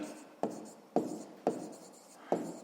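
Pen on paper during a math lesson, with four sharp taps spaced about half a second apart, each followed by soft scratching strokes, close and fairly quiet.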